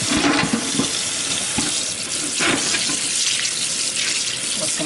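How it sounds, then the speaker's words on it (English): A raw pork Boston butt is rinsed under running tap water, producing a steady, loud, close splashing hiss that carries on without a break. "And I'm just rinsing that off."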